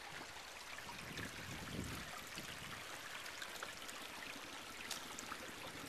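An ice-cold creek on the Santa Rosa Plateau flows with a steady, faint broadband trickle and gurgle, continuous and even throughout, with no talk.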